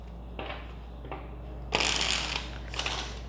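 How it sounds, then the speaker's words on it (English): Tarot deck being shuffled by hand, a few soft riffling bursts: two faint short ones, then a louder longer riffle and one more near the end, close and quiet with no talk. "Keep in mind, all the cards are upright before I shuffle."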